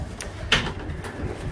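Young ash red racing pigeons in a loft give soft intermittent coos and wing flutters, with a few brief sharper sounds against a low background rumble.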